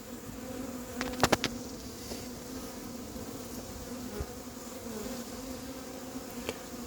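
Steady, close buzzing of many honey bees from a recovered swarm being hived, a continuous drone with a few sharp clicks and taps standing out.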